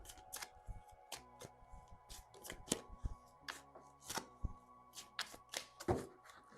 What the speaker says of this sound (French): Je bats un peu les cartes.